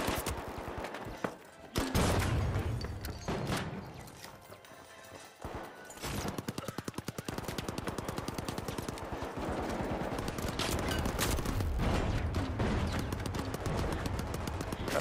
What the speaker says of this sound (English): my turret got him as well